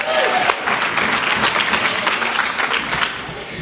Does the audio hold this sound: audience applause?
yes